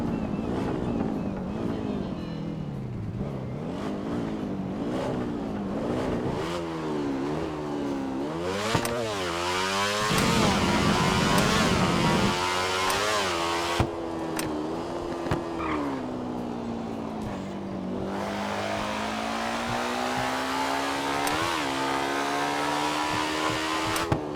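A Ducati V4S motorcycle from a GTA V game mod revs and accelerates, its engine note climbing and dropping through repeated throttle blips and gear changes, loud and continuous with wind noise.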